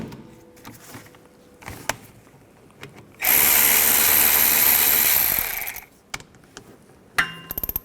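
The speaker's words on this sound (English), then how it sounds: "I'll use a 14mm socket or a wrench and take the two caliper bolts out." A single loud burst of a power drill or impact gun removing 14mm caliper bolts from a rear brake caliper on a 2004-2010 Toyota Sienna, about two seconds long, surrounded by quieter tool clinks and handling noises.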